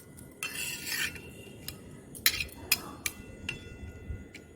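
A frying egg being turned in a pan set out in the sun: a few sharp metallic clinks and scrapes of a utensil against the pan, with quiet gaps between the strikes.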